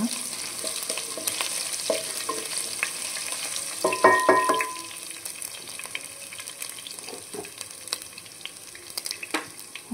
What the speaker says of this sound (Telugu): అల్లం ముక్కలు సన్నగా కట్ చేసి అన్నీ మంచిగా వేగాలన్నమాట